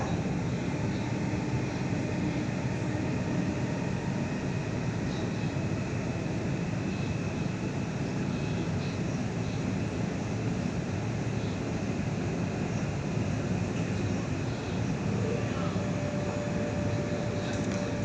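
Interior ride noise aboard a Sydney train, set B9, on the T8 Airport & South line: a continuous low rumble and hum with steady rolling roar, no voices, constant throughout.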